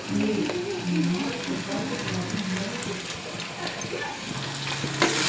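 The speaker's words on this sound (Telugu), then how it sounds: "కొద్దిగా సాల్ట్ వేసి వేపుకుందాం" Spices with salt and turmeric frying in oil for a Godavari raw prawn curry, a steady close sizzle with scraping stirs and a sharp clink near the end, no speech.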